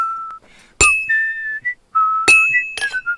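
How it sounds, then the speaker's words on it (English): Whistled tune in the game Kingdom Come Deliverance 2, with two or more short melodic phrases answering each other, broken by a few sharp metallic clinks. It is close, clear and loud. "What is it, dueling whistling?"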